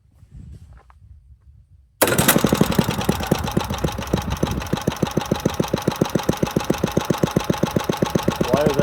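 A vintage Craftsman lawn mower engine with its choke set bursts into life after a quiet pause, then runs with a loud, rapid, even chugging firing rhythm that continues to the end.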